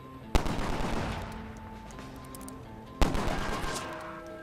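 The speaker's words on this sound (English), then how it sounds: "the Duster is a handgun with devastating close quarters power with its fan fire mode." A Duster handgun fires in fan fire mode in the old-west battle royale game Grit, with two loud, sharp shots about three seconds apart, each followed by a long rumbling echo.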